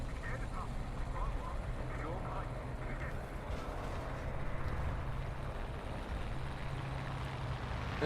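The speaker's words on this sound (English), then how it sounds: "I was able to hear that guy's engine" Enemy vehicle engine in War Thunder, a steady low rumble held throughout at moderate level, with a faint mechanical hum and scattered distant noises over it.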